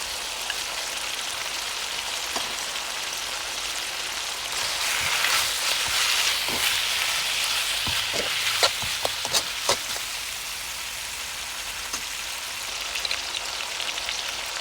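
Chicken for dapanji fries in a pan as spices go in, a dense, steady sizzle with a series of sharp scraping taps from stirring in the middle, no talking.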